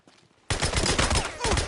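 Loud, rapid sniper gunfire in the video game Days Gone erupts suddenly after a quiet moment and continues as a dense, sustained burst of overlapping shots.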